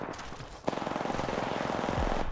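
Rapid automatic gunfire in the video game Apex Legends, a fast even stream of shots after one louder crack, steady and close for the whole stretch with no speech.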